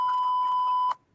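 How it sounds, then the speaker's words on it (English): A single steady censor bleep sounds as a clean electronic tone, loud and alone, then cuts off abruptly before a short near-silent tail. "I will occasionally drop a word or so, and I usually get beeped by some."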